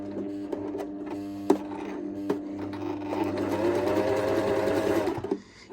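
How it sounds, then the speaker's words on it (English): A sewing machine runs a short series of zigzag stitches for a four-step buttonhole, a close steady mechanical whir and clatter with a few sharp clicks, alone without talk, then stopping. "I'm going to run probably somewhere between 6 and 8 zigzag stitches"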